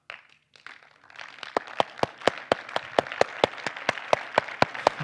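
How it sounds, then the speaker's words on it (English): A small conference audience claps on request in quick, fairly regular bursts, sharp claps ringing out close by after a brief murmur at the start. "Now, what I want you guys to do is clap."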